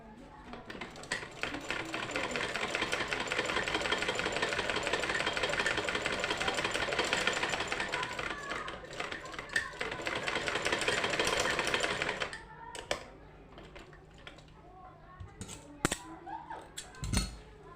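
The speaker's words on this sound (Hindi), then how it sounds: "अब मैं इसके ऊपर सिलाई लगा दूँगी।" Sewing machine stitching across lawn fabric, a steady rapid mechanical whirr that runs continuously for about twelve seconds before stopping, leaving faint handling clicks and rustles.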